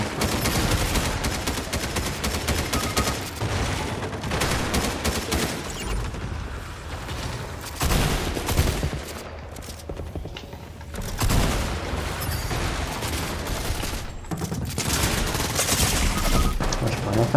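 A pump shotgun firing in Fortnite ranked play, heavy repeated gunshots mixed with other gunfire and booms over a long, busy stretch, with someone speaking French at points.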